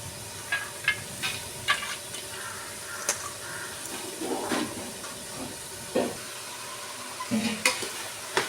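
Chana dal is stirred in a pan: near, continuous frying sizzle with a soft hiss, broken by frequent scraping and clinking strokes of a spoon at an irregular pace, with no one speaking.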